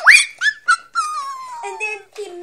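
A dog whimpering and yipping in a run of high, wavering whines and short cries, close and fairly loud, with no other sound around it.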